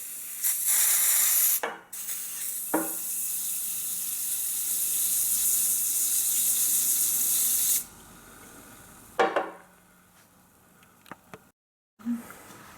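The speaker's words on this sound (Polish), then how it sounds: "Do pierwszego naczynia wkładamy nakrętkę zardzewiałą i wlewamy WD-40." A steady aerosol hiss of WD-40 being sprayed into a container holding a rusty nut for several seconds, close and loud, followed by a few short knocks and quieter handling sounds.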